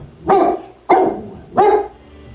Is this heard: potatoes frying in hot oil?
no